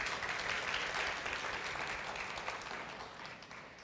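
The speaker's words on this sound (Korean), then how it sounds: "우리 어린이들에게 박수 한번 해주세요." A church congregation at a Chuseok thanksgiving service claps for the children, a soft, even burst of applause that tapers off gradually, with no talking over it.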